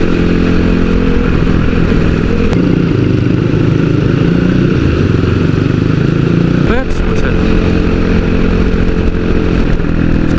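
Motorcycles ride fast at night on a road, with a Yamaha NMAX scooter alongside a Kawasaki KLX 150 supermoto: a loud, steady engine drone and wind rush that never lets up, with a brief rising rev midway.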